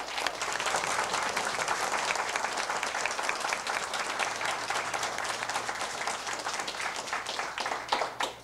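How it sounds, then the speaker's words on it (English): A room full of people at a political workshop with Newt Gingrich breaks into dense, sustained applause, a loud continuous wash of many hands clapping that carries on for several seconds. "I'm going to ask you to stand and give you a round of applause."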